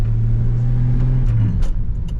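A 1958 Chevrolet Delray with a three-speed column shift pulls away in first gear, its engine droning low and steady up close before the pitch dips near the shift.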